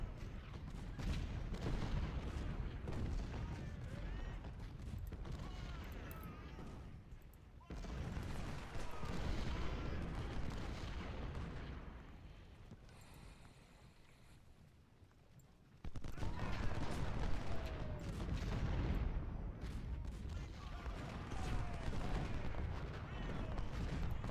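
Cannon and artillery fire from a Civil War battle in the strategy game Ultimate General: Civil War, at the Battle of Chickamauga: dense, continuous rumbling volleys and booms, louder in bursts, with a brief lull midway.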